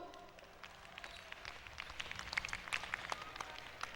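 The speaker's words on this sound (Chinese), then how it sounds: "我们给他们掌声好不好？" An audience at a 2003 indigenous harvest festival gathering in Taipei County breaks into applause, faint at first and then swelling into scattered, moderately close clapping over a low background hum.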